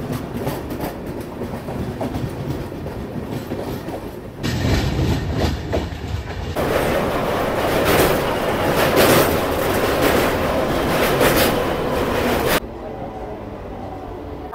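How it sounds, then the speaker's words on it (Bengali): A long-distance passenger train running from Silchar to Thiruvananthapuram rolls past close by, a continuous loud roar of wheels and carriages with rhythmic clatter that swells midway, then drops off abruptly. "আর এই ট্রেনটা আসছে শিলচর থেকে, যাবে তিরুবনন্তপুরম।"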